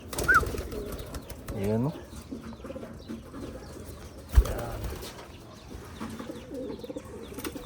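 Racing pigeons coo in short, low, gurgling bursts during recall training, with a sharp wing flap partway through, while someone talks nearby.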